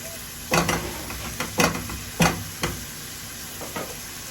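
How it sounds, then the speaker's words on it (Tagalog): Food sautéing in butter in a pan, with a steady sizzle under a handful of sharp stirring scrapes and knocks at irregular intervals, close and fairly loud. "So, gisa-gisa natin, gisa-gisa. Ang bango ng butter, oh."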